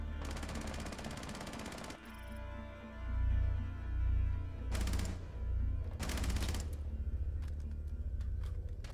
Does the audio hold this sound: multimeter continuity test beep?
no